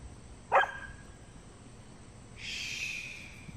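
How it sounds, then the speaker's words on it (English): A single sharp dog bark rings out at moderate distance against a quiet background, followed a couple of seconds later by a fainter, higher sustained call. "What you barking at"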